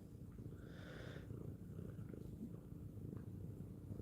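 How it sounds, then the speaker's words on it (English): A cat draped around someone's neck like a scarf purrs softly and steadily up close, a quiet continuous rumble in an otherwise hushed room. "It's a living, breathing, purring scarf."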